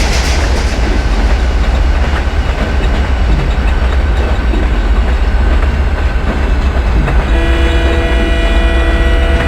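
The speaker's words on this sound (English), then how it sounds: "So one more train is coming in the opposite track." An express train led by a diesel engine roars past very close on the opposite track with a steady rumble and clattering wheels, and a long horn sounds near the end.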